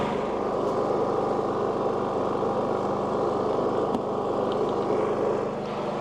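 A portable generator hooked up to an RV runs with a steady, continuous engine drone at close range, unbroken throughout and with no voices.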